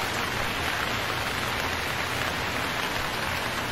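Steady rain in the Stranded Deep video game, a dense, even hiss of drops pattering on surfaces without a break, loud and unchanging from start to finish.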